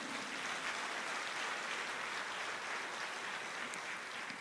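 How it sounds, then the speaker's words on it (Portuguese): A church congregation applauds during a worship service, a steady, dense wash of clapping sustained evenly throughout without a break and no voices rising above it. "Vamos aplaudir ao Senhor."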